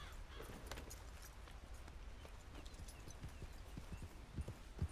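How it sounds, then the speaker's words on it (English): Faint, steady horse hooves clip-clop under a low rumble of ambience in Red Dead Redemption 2, quiet and somewhat distant. "Get on the horse."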